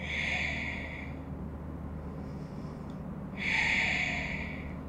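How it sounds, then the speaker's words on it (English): Slow nasal breathing during a yoga hamstring stretch: two long audible breaths through the nose with a quiet pause between, close and soft, with no talking. "breathing in and out through your nose"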